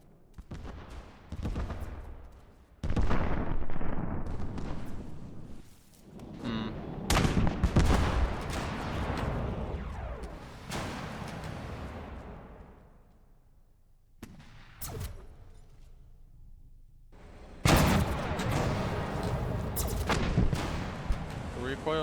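Battleship deck weapons firing salvos in the naval combat game From the Depths, loud repeated booming shots in bursts with gaps between volleys, under occasional talk.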